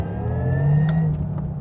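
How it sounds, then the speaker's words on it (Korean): Porsche Taycan 4S Cross Turismo electric car accelerating, a steady close motor whine with a rising tonal hum and road noise throughout, no voices. "악셀을 밟을 때도 뗄 때도"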